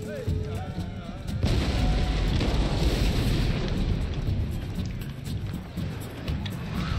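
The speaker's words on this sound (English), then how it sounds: "So let's get you two, fire on them." Musket volleys and artillery fire thunder across an eighteenth-century battle in Empire Total War, Battle of Rossbach 1757, a heavy rolling barrage of overlapping booms and crackling shots that swells and continues without pause.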